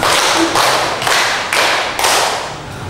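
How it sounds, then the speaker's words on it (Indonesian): A classroom of students claps a five-beat rhythmic pattern in unison during a maths peer-teaching lesson, each sharp group clap evenly spaced and loud, with no talking over it. "tepuk 5"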